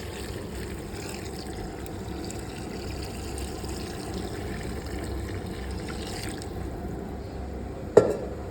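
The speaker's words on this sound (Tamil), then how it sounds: "இது 2வது ஜக்கு ஊற்றுறோம்." Water is poured steadily from a jug into a cooking pot, a soft continuous gush at low volume ending in a brief clink.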